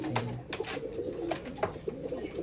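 A pigeon sits just outside its nest with a chick inside, giving soft, low repeated coos close by, with a few light rustles in between.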